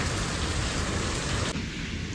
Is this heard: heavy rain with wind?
yes